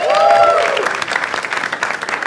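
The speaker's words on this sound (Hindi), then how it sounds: "एक बार जोरदार ताली for Jaspreet bhai" A comedy show audience bursts into strong applause for a guest, with a brief tonal cheer at the start, then sustained clapping that thins into scattered claps.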